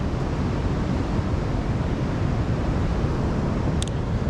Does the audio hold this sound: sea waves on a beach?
yes